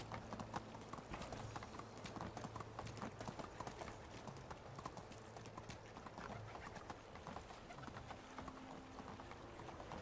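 A horse's hooves clip-clop in a quick, steady rhythm in the video game Medieval Dynasty, heard fairly quietly and continuously with no talk over them.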